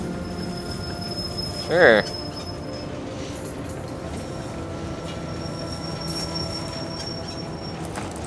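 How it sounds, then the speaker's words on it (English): In a video game called The Ball, a train rolls on rails with a low rumble, and a sharp wheel squeal rings out briefly near the start. A voice speaks a word over it. "Eventually we get to ride a train, I guess."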